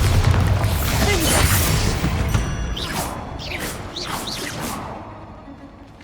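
Bombarda blasting spell cast in Hogwarts Legacy inside grassy catacombs, a loud booming impact with rushing whooshes and scattered crashing debris, followed by several fainter swishing bursts as it fades.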